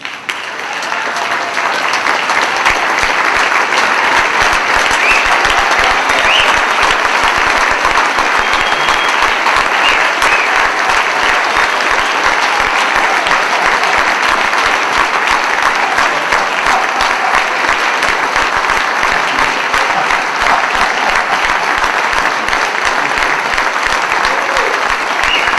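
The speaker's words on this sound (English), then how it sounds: "stand up and give applause to a living legend, Dick Gregory." A large audience rises for a standing ovation honoring a living legend, sustained loud applause with dense clapping and some crowd noise filling the whole stretch without pause.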